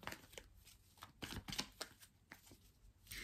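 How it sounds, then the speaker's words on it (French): Bélline oracle cards being shuffled by hand and flipped as they are mixed, giving a quick run of close, crisp riffling and slapping bursts with no talking. "quand je bats les cartes, je les mélange hop, en les retournant"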